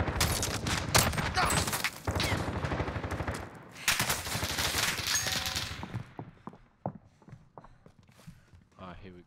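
Shotgun fire in Call of Duty Warzone, with rapid, loud blasts crowding together for several seconds amid footsteps, then thinning into a few scattered, fainter shots and thuds.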